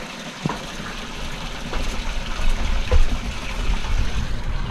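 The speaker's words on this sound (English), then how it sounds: "So all this water is pumped up here into a riser tank." Water pumped up into a riser tank in an outdoor pond filtration setup, with a continuous gushing, trickling flow heard up close and steady, with a few brief knocks.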